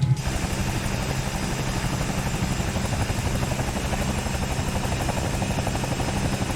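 Bell 222 helicopter spinning up for takeoff, a loud steady rotor and turbine roar with rapid blade chop throughout, close and continuous with no voices.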